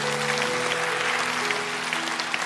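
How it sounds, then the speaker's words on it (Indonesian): A church congregation claps during a service, dense and continuous, while sustained organ or keyboard tones carry underneath. "Kasih tepuk tangan untuk Tuhan."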